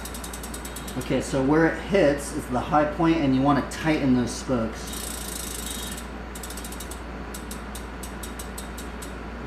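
A BMX bicycle wheel's freewheel ratchet clicks in rapid bursts as the wheel spins during a wheel change, close and crisp, alternating with someone talking over it.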